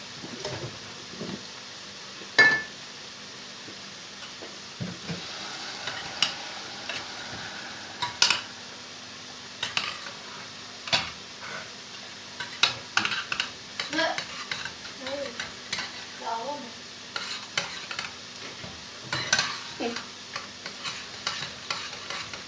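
Water poured into a ketchup mixture in a hot pan for a breakfast dish, giving soft sizzling and frying crackle with scattered spoon stirs and pan knocks, close and fairly quiet, with no talk.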